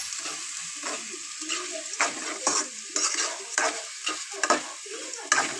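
Food is stir-fried in a pan with a soft sizzle under repeated scraping and stirring strokes, close by, in an uneven rhythm of about a dozen bursts.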